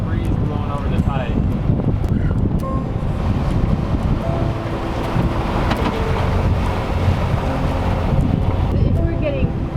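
Strong wind roars across the microphone aboard a boat in the English Channel, with waves and water rushing steadily beneath it for the whole stretch, dense and loud without a break.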